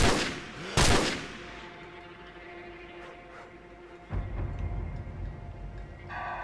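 Gunfire in Call of Duty 4: Modern Warfare, opening with a loud burst of shots, then quieter sporadic pops over a steady game backdrop, with another heavy blast near the end.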